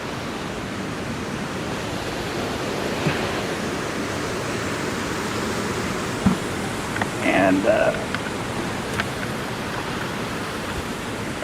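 Steady, broadband rush of river water close by, a continuous hiss that stays loud and even throughout, with someone briefly talking over it.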